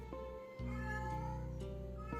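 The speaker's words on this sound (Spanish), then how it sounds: "hacía un maullido tranquilo, como el de un felino que camina plácidamente" A cat meows calmly in a drawn-out, tonal call over a low steady hum, close and fairly quiet, with no speech.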